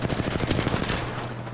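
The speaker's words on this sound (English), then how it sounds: "Keep shooting, Jess." Rapid automatic gunfire from an Apex Legends firefight, a dense burst of repeated shots that rings out loudly for about a second, then tails off into a lingering roar.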